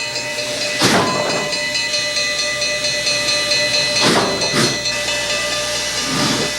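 Canadian National steam locomotive 6060 hisses loudly and steadily as its driving wheels slip, with several bursts of steam over a constant high tonal whine, close and unaccompanied by talk.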